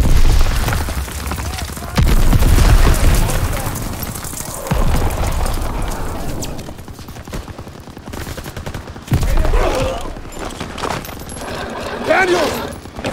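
Battlefield gunfire in Call of Duty: WWII, with dense bursts of rifle and machine-gun fire and heavy booms throughout, loud and continuous, as voices shout over the fighting.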